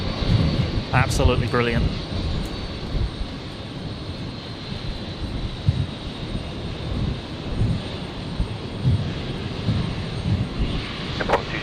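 A heavy jet departs runway 01 right at Brisbane Airport on a stormy night, its broad engine roar steady and fairly loud throughout, with a voice briefly speaking over it early on.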